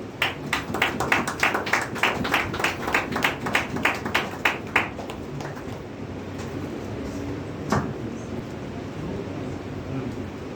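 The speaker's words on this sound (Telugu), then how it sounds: "చప్పట్లు కొడుతూ సేవకుని ముందుకు ఆహ్వానిస్తాం." A congregation claps hands in a steady rhythmic burst of about a dozen beats during a Friday fasting prayer service, welcoming the pastor forward, then the clapping fades into room murmur with a single clap later.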